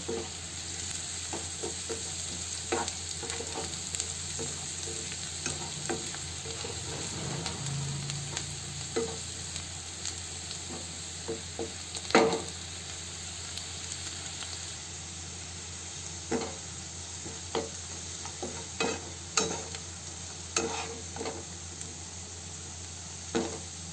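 Onions frying in a pan with turmeric and chili are stirred, giving a faint, steady sizzle broken by repeated soft scraping strokes of a spoon.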